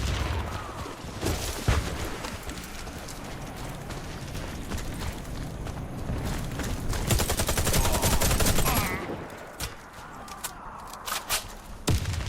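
Warface video game combat, dense continuous rapid gunfire and heavy blasts at close range, rumbling and crackling for several seconds before easing into scattered shots and thuds, no clear voices.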